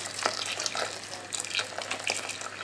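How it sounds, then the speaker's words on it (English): Water runs from a tap and pours into a pan to re-cover simmering ingredients in a home kitchen, a steady close splashing stream with slight gurgling variations. "I'm going to re-cover with water,"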